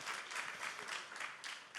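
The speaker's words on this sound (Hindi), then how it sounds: "अगर ऐसा नहीं है तो फिर तालियां जोरदार होनी चाहिए प्लीज" A summit audience claps in brief, faint applause, a soft continuous patter of many hands lasting under two seconds.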